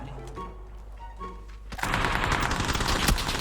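Loud, close automatic gunfire from the video game PUBG suddenly breaks in partway through and keeps rattling in a dense burst after a quieter opening.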